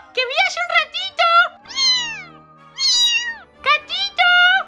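A kitten meows repeatedly in a series of loud, close, high-pitched cries with short pauses, some drawn-out and wavering, heard alone without talk.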